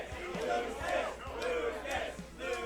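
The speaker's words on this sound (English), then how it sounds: "The Lucas chants coming out from the crowd." Crowd at a Smash 4 tournament chanting Lucas in a steady rhythmic cadence, a massed roar of voices pulsing repeatedly, somewhat distant and full.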